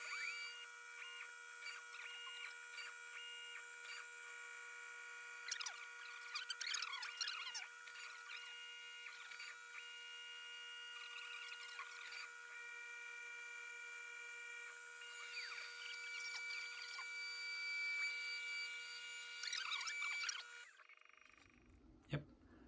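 A CNC machine cuts plastic face shields held down by clamps in a jig, a steady mechanical whir with tonal motor whine and scattered cutting rasps that stops abruptly near the end.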